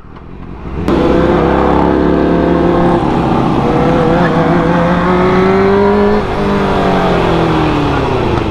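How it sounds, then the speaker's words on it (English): A Toyota Supra engine roars and revs hard, loud and close, its pitch climbing through gears in a sustained, strained howl with a brief dip midway before rising again. "Oh my god, it's a Supra!"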